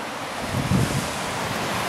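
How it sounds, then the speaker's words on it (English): Ocean waves break on a sandy Chilean desert shore lined with cacti, a steady loud broadband wash of surf mixed with wind noise on the microphone, with a slightly stronger swell midway. "Got a number of decent waves out there today."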